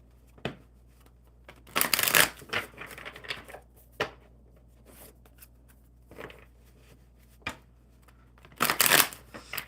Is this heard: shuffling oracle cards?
yes